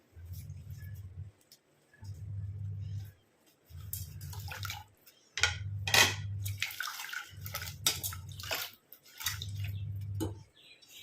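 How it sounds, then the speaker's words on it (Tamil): Water sloshing and splashing as flowers are washed by hand, in repeated bursts with a low rhythmic hum pulsing underneath. "எல்லாம் போய் நம்ம தண்ணியில் போட்டு நல்லா வாஷ் பண்ணிக்கலாம்."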